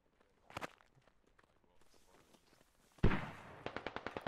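Mortar fire in an online military shooter game: a sharp distant boom followed by a rapid string of crackling explosive reports and scattered footsteps, loud bursts against quieter background.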